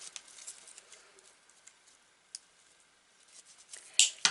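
Pliers snip through tough, good-quality wire on a decorated bottle craft, a faint scratchy fumbling leading up to one sharp, loud clipping snap near the end, close and with no talking.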